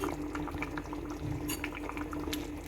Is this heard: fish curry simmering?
yes